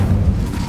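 Incendio fire spell cast in Hogwarts Legacy, a brief deep, rumbling burst of magical flame, loud and close, lasting under a second.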